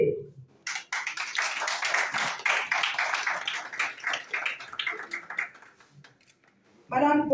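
At a political mobilization rally in Côte d'Ivoire, a crowd claps in a brisk scattered burst for about five seconds, fading out before a voice speaks at the end.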